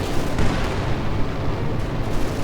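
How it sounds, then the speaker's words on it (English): Field guns fire in a Company of Heroes 2 battle, a dense, loud, continuous rumble of booms and blasts with no clear gaps between shots. "Field gun firing away."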